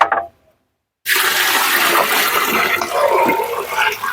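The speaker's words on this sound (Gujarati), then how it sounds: "મિત્રો બાકીનું પાણી એડ કરવાનું।" Water gushes into a 200-litre barrel after a brief silence, a loud, continuous rushing pour that fills the rest of the clip with no talking.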